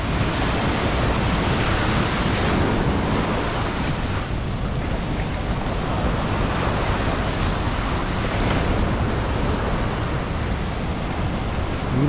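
High-tide surf crashes continuously at Piliw Beach in Llorente, Eastern Samar, a loud unbroken roar of breaking waves mixed with wind buffeting the microphone, with no voices.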